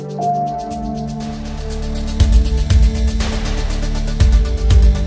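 Combat version of adaptive video game music, a dense orchestral loop with sustained tones and heavy low percussion hits landing at regular intervals, loud and alone with no talk.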